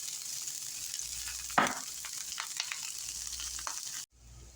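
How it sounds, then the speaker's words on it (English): Onions and kale sizzle in hot olive oil, a soft steady crackle under a low hum, with a few scraping stirs partway through before the sound cuts off. "We'll saute the onions and the kale together."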